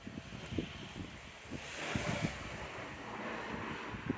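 Strong wind blows across a microphone outdoors, a steady broadband rush with low gusty buffeting and scattered knocks, no talking.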